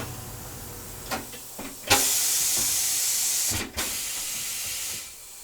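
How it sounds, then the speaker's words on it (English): A tire machine being charged with air while servicing a 2014 EZGO Express S4 gas golf cart, several sharp clicks and then loud, steady air hisses that start and stop in bursts, close by. "we're going to charge up the tire machine"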